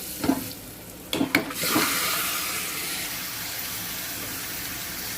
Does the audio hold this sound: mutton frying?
yes